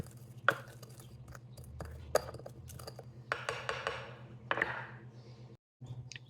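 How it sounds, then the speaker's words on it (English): Cumin, oregano and black peppercorns crushed together by hand, a series of sharp, irregular grinding and cracking knocks, close and fairly quiet, with no talk. "You can crush them all together."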